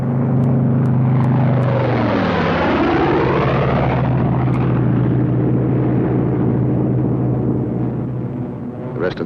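World War II P-47 Thunderbolt propeller fighter planes peel off one after another from formation, a loud sustained engine roar with a sweeping pitch drop as each plane dives away, droning continuously and close throughout.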